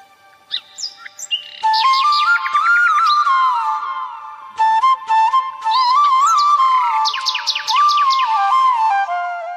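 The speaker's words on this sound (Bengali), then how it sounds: "কোকিলের কুহু কুহু ডাক" A cuckoo (koel) calls in a park at Zinda Park near Dhaka: repeated clear, rising whistled notes in bursts, loud and close, mixed with other bird chirps and no talking.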